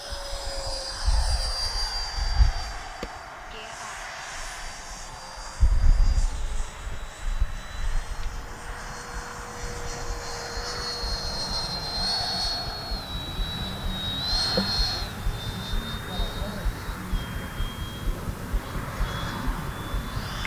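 Freewing F-22 90mm electric ducted-fan RC jet taking off, its whine rising and holding as it speeds away and climbs, with a couple of sharp thumps early and a steady high turbine tone throughout.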